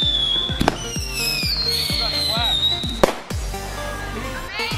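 Fireworks in the video game GTA V bursting very close, a rapid series of sharp loud cracks and bangs with whistling rising tones between them, about ten detonations over a few seconds.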